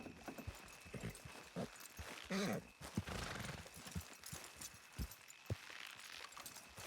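Horse hooves clopping over the ground alongside a whinny in the video game Red Dead Redemption 2, with rustling movement and background noise throughout.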